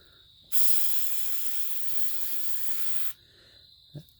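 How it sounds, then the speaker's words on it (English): Spray can blasting cleaner onto a carburetor bowl from a 22-ton County Line log splitter, one sustained close hiss about two and a half seconds long, then a small clunk. "So just spray this off."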